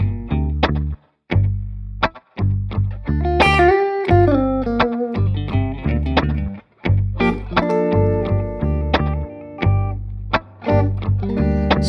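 An electric guitar plays a run of triads through a slap delay effect, bright plucked chords with short echoes, some ringing out and others cut short by brief gaps, loud and close with no talking.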